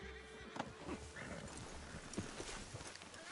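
Horse hooves in Red Dead Redemption 2 clip-clopping in woodland scrub, a steady run of close, uneven hoofbeats with a brief whinny mixed in over faint ambient background.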